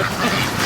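Bush ducks quacking close by in a busy group, a loud overlapping burst of calls with no talking.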